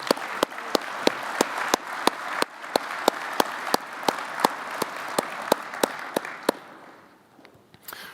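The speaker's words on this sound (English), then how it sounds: "Let's give them all a round of applause." Audience applause at a military maintenance awards banquet: steady crowd clapping with sharp, evenly spaced claps standing out in a regular rhythm, thinning and fading over the last second or so.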